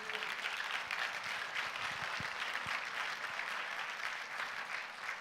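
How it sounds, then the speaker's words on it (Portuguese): A church congregation claps steadily and loudly for several seconds, dense and sustained without a break. "Então dá um aplauso ao Senhor Jesus."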